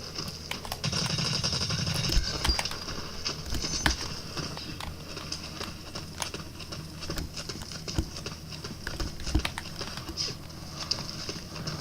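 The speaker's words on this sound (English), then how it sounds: "Those footsteps are way too loud." Rapid, loud footsteps in the online shooter Blacklight: Retribution, a steady patter of close steps that runs through the whole stretch, punctuated by sharper clicks and impacts with no talk.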